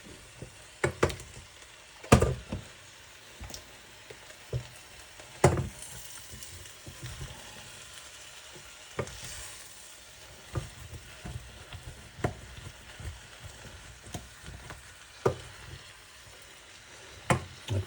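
Cabbage and spinach curry with onions and masala frying in a pan while a spoon repeatedly scrapes stuck bits off the bottom, giving irregular sharp scrapes and knocks over a soft, steady sizzle; close, no talking.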